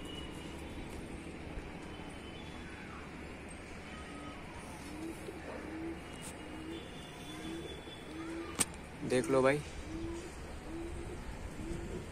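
Pigeons, including young highflyers, coo softly in a repeated rhythmic pattern against a quiet outdoor background, with a brief louder flutter and call near the end and someone speaking briefly.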